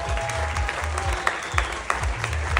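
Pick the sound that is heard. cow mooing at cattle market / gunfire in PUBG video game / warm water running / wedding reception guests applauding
wedding reception guests applauding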